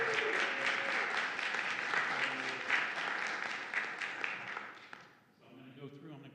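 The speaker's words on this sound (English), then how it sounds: "So I first would like a round of applause for Pack 227." Audience applause at an Agoura Hills city council meeting, honoring Pack 227: a dense, steady round of clapping from a room of people for about five seconds, fading out, followed by quieter room noise.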